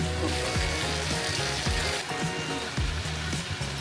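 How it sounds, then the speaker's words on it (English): Tomatoes go into a hot pan with a cumin mixture and sizzle, producing a fairly loud, continuous frying hiss that persists throughout against some tonal background sound. "And now I'm gonna add the tomatoes."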